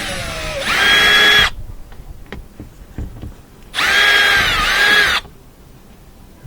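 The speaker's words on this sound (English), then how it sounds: "looks like just got to remove these two Phillips head screws" A power drill backs out two Phillips head screws from the third brake light of a 2004 GMC Yukon, two loud whirring bursts about a second each, separated by a quiet gap.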